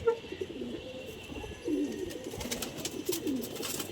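A racing pigeon from the Mokim Bazar club, flown in from fifty kilometres, gives a few soft, low coos close by against a quiet background, with no talk over it.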